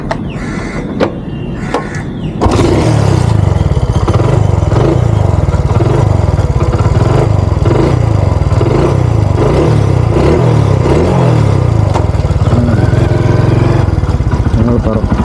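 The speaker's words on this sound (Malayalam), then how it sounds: "CD100ൻ്റെ ആ ഒരു എക്സോസ്റ്റ് നോട്ട് എങ്ങനെ ഉണ്ടെന്ന് നോക്കാം" A 1998 Hero Honda CD100SS motorcycle starts and idles close by, its exhaust giving a loud, steady single-cylinder putter with a regular pulsing beat that continues to the end.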